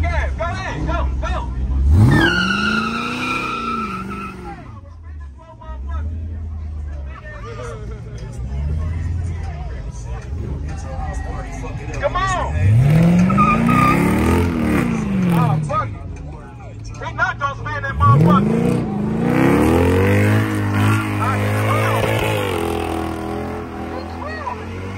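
An SRT Jeep revs hard in repeated rising surges while its tires spin, loud and close, with crowd chatter and shouting throughout.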